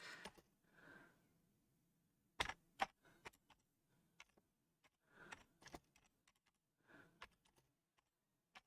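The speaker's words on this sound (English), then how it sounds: "My keyboard." Someone types on a computer keyboard in short, irregular bursts of clicks with pauses between them, faint and close, along with soft breathing sounds.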